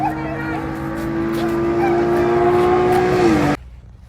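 A Dodge Charger V6 with an aftermarket intake revs hard in first gear, its engine tone climbing steadily and loudly for a few seconds before cutting off abruptly, with a voice faintly audible beneath.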